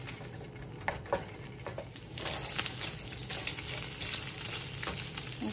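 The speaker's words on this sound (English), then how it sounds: "You can hear that the pan is starting to heat up." Food toasting in a heating pan for migas gives a steady close sizzle and crackle that grows busier partway through, with occasional scraping stir sounds.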